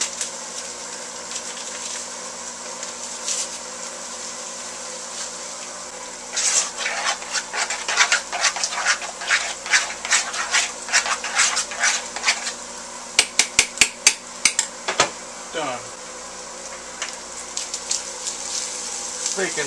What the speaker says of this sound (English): Mixing that cheese sauce.